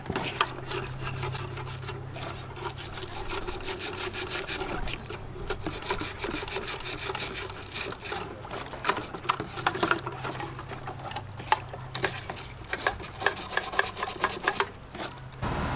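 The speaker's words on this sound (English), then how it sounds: "I got a little bit of ordinary dish soap and a scrub brush, and just give it a good old bath and scrub it" A scrub brush works steadily over a Dietz Junior No. 20 lantern in soapy water, giving a fast, continuous, close scratchy rubbing at an even level with no pauses.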